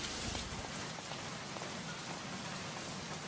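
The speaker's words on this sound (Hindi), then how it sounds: "ये बम्बई की बारिश भी ना. I hate rain." Heavy Bombay rain falls in a dense, even roar of drops striking surfaces, steady and unbroken, with no voices heard.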